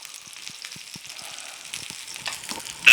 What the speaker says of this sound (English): I lined up some pork belly on top, so I'm going to just slowly let that kind of cook through